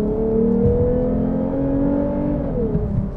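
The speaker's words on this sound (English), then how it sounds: "it almost sounds like a supercharger whine" A 2021 Lexus IS350 F-Sport engine rising in pitch under steady acceleration, a smooth, linear whine much like a supercharger, heard continuously from inside the car with no talk.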